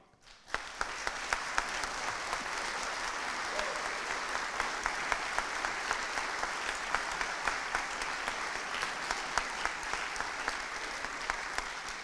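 Audience applause at the Cornwall Air Ambulance carol concert, a dense steady wash of clapping from a large crowd that swells in quickly and holds evenly for about twelve seconds.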